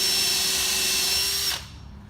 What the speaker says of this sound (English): So pre-drilling all of these holes,